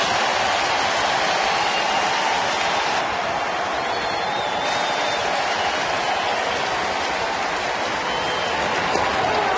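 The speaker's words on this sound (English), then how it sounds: "Now the crowd getting behind Arthur Rhodes" Baseball stadium crowd roaring and cheering steadily for a veteran pitcher during a Rockies at Reds game, a dense, sustained wash of distant crowd noise with no pauses.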